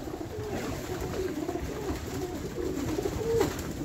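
Recently vaccinated pigeons feed in their loft, with close, low cooing and soft rustling and shuffling running throughout, the cooing swelling slightly near the end.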